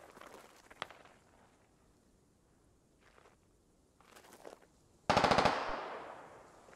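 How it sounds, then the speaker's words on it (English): Automatic assault rifle fire in the Squad military shooter, close by to the west: faint scattered bursts early on, then a loud, sharp rapid burst that rings out and decays over the final seconds. "Alpha hearing AR fire out of his west, close."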